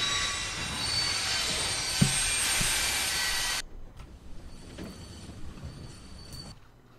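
A train in The Walking Dead video game brakes with a loud metallic wheel squeal and rumbling carriages, then cuts off abruptly into a quieter, fading rumble as it comes to a stop.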